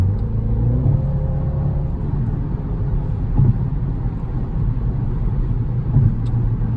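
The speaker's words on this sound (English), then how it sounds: "And now, like, if you turn a little bit on high speed, the car's really solid." A 2019 BMW X2 M35i driven at high speed, heard from the cabin as a steady low engine and road rumble with a constant whir, fairly loud, with a few faint thumps.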